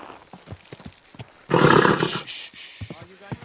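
A horse in Kingdom Come: Deliverance II lets out a loud, rough neigh in a sudden burst, preceded and followed by quieter clopping and a man's speech.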